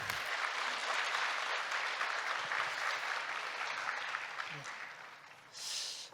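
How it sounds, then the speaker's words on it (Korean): Applause fills a formal agreement-signing ceremony following a design presentation, a dense, even roar of many hands clapping that thins slightly toward the end and then swells briefly. "다시 한번 뜨거운 박수 부탁드리겠습니다"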